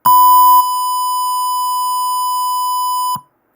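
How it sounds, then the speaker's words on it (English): A single steady electronic buzzer tone from a simulated Arduino motion-sensor alarm sounds for about three seconds, clear and loud with no other noise, then cuts off. "buzzer has been started beeping"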